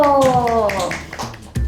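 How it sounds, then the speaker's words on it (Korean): Schoolchildren clapping in a classroom, scattered claps heard close by, mixed with a voice and other speech. "박수!"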